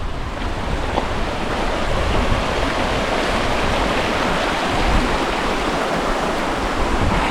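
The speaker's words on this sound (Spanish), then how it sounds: "el río Guadalevín discurre íntegramente por la serranía de Ronda" The Guadalevín river rushing through the Serranía de Ronda in the Sierra de las Nieves, a loud, steady, close roar of flowing water that runs unbroken throughout.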